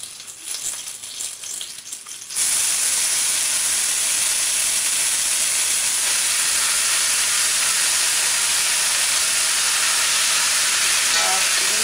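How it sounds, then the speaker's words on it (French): Sauerkraut tipped into a hot pan with melting fat, bursting at once into a loud, steady, close sizzle and hiss that carries on unbroken, after a quieter start with faint cooking sounds. "Donc là je vais rajouter la choucroute."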